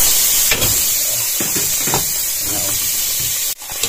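Garlic, onion and tomatoes sauté in butter and oil, making a loud continuous sizzle and hiss with scraping stir strokes. A brief dip near the end breaks the frying. Nobody speaks.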